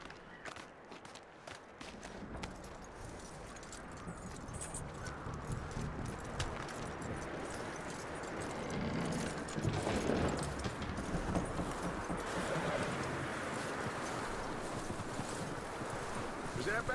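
Horse hooves clip-clop steadily through ambient wind and outdoor noise in the Red Dead Redemption 2 video game, moderately loud and continuous, with a faint jangle of tack.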